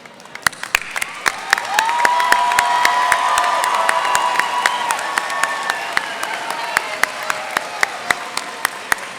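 A high school graduation crowd claps and cheers, sharp individual claps popping over a sustained wash of applause, with whoops and shouts rising early and the din holding steady before slowly easing.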